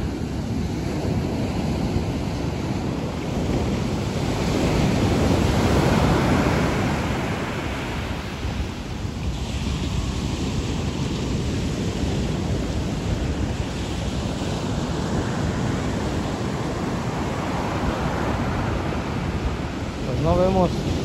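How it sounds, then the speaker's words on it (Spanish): Ocean waves break and wash steadily on a beach in Oxnard, California, in the morning, a continuous broad roar with wind buffeting the microphone and swelling surges throughout. "Ahí están las olas del mar."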